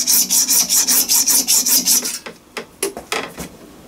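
Saw slicing through a piece of metal stock for a scratch-built Gauge 1 live steam model, a fast rhythmic rasping of about a dozen even strokes, then slower, irregular scrapes near the end, close and loud with no talking.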